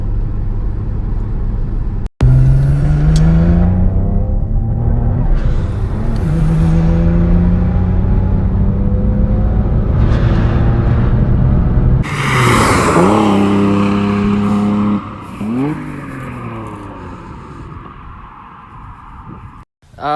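A Mitsubishi 3000GT revs hard on the move, heard from inside as a loud rising engine roar through several shifts, with a brief cut near two seconds and people talking over it.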